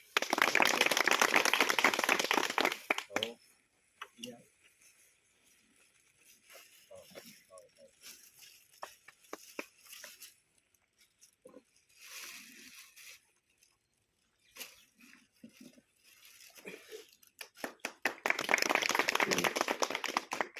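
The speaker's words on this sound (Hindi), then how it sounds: "जोर से ताली" Loud audience clapping at a Hindi-language public event breaks out at the start, fades to scattered claps and talk in the middle, then swells again into a strong round of applause at the end.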